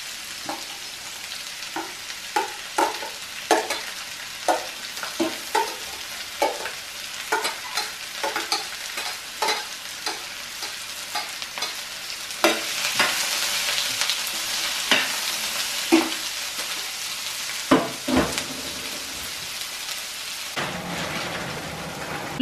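Chopped onions sizzling in a pan for vegetable biryani, with a spoon stirring and scraping in a steady repeating rhythm, close and fairly loud over a constant frying hiss, without talk.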